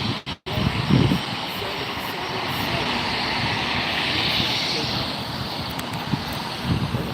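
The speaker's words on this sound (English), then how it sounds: "There's a private jet right there." A private jet passing at LAX airport at night, heard as a steady, broad roar of jet engine noise that swells gently and holds for several seconds, with some wind rumble and no talk.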